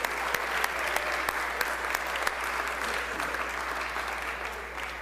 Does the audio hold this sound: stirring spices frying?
no